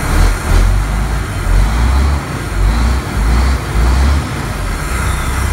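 A 1993 Louisville Ford truck engine, abandoned and unrun for 13 years, revs under throttle in loud low rumbling surges that rise and fall about five times, close by with no talk.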